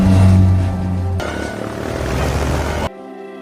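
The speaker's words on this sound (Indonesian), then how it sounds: "tiba-tiba, sebuah pesawat melintas di atas mereka" An airplane passes overhead in a scene from the film Jumanji: The Next Level, a loud roaring engine drone mixed with soundtrack layers that cuts off abruptly near the end.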